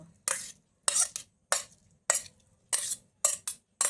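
Shrimp stirred in a frying pan with garlic, heard as a run of quick, crisp scraping strokes of a spatula against the pan in an uneven rhythm, close up with faint sizzling between strokes.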